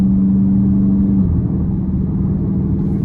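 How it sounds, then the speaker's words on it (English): A 2020 Dodge Charger R/T Plus with the Blacktop Package and an aggressive aftermarket-style exhaust rumbles loudly and steadily, with a sustained droning tone early on that fades into a continuous deep engine growl, heard up close. "And with this exhaust, just love that sound."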